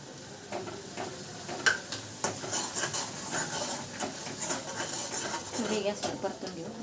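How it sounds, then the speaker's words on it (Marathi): Masala sautés in a pan as a spoon scrapes and stirs it. The sound is a soft, uneven sizzle with scattered clicks and scrapes, and a voice can be heard faintly in the background. "मसाला चांगला परतून घेऊ"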